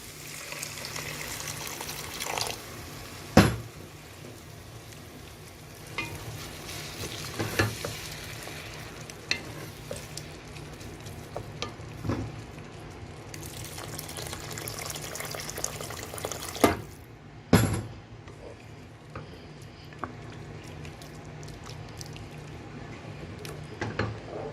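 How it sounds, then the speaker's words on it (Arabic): Boiling water is poured bit by bit into a pot of frying orzo for Quaker orzo soup, bringing bursts of sizzling and splashing, stirring scrapes and a few sharp knocks against a steady hiss close up. "الحين ابدا اضيف المويه المغليه بالتدريج"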